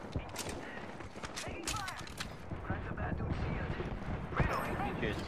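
Gunfire in the Apex Legends video game, with repeated shots and bursts crackling in the mid-distance under a busy game soundscape while players talk over it.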